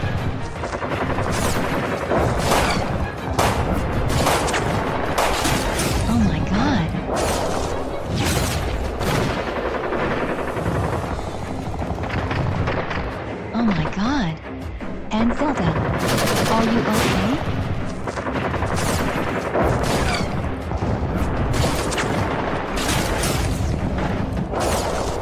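Video game gunfire rattles almost continuously: dense bursts of automatic fire mixed with heavier booms and explosions, loud and close, with occasional voices underneath.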